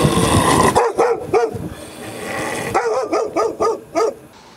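Stray dogs in the city of Magadan bark repeatedly, a burst of overlapping barks followed after a pause by a steady run of loud, close, separate barks with no talking.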